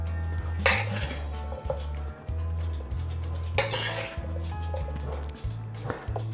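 Utensils clink and scrape against dishes while smoked pork and sautéed vegetables are plated, with sharp metallic taps over a steady low hum nearby.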